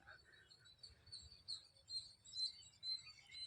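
Sparrows feeding in an organic rice field give high, thin, repeated chirps, faint and a little distant over a low rumbling background.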